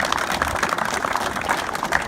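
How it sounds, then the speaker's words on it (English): A crowd at a Bridgeport announcement gives Senator Blumenthal a steady round of applause: dense, even clapping that holds for the whole moment with no voices over it. "you can give him a round of applause"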